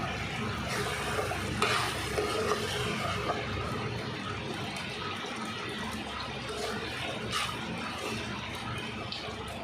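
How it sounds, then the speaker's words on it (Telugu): Andhra-style gongura prawn curry being stirred in a pan, a steady wet bubbling and scraping texture running throughout with occasional louder stirring clatters, close and continuous, no talking. "ఇప్పుడు మనం ఒకసారి కలుపుకొని చూసుకుందాం."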